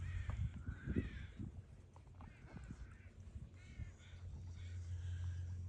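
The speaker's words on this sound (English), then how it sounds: "I know you can hear the crows in the background." Crows caw several times in the background, rising above a steady low hum, with faint voices now and then.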